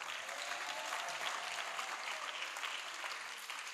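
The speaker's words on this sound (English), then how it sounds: "You might have to give her a loud applause on that." Audience applause at a primary school graduation ceremony, a dense, steady wash of clapping from a large crowd that holds evenly for the whole stretch.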